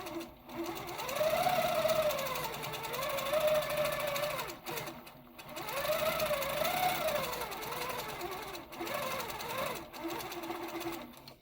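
A sewing machine stitches a quilt through an echo quilting foot, running in long, steady, whirring bursts with brief stops in between. The sound is close and fairly quiet.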